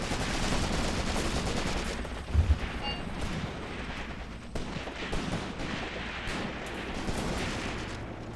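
Rifle and machine-gun fire crackle through a WWII trench battle in the game Graviteam Tactics: Mius Front, with sharp repeated shots and bursts over a constant rumble of battle. Someone speaks over the gunfire.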